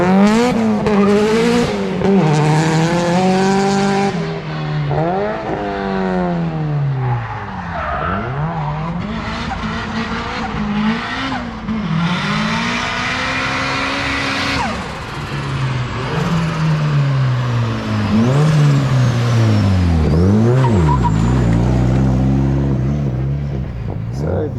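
A loud car engine, a forged SR20 in an S13 drift car, revs and wails continuously while tires squeal and skid through repeated drifts, pitch swooping up and down, close and sustained.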